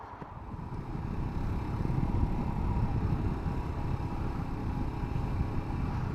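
A 2021 Royal Enfield Himalayan motorcycle is ridden, its engine a continuous low rumble mixed with buffeting wind noise across the microphone.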